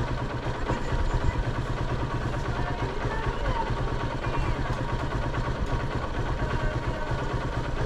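A carbureted 2012 motorcycle engine idles steadily and close by, its low rumble holding even throughout with no throttle blips.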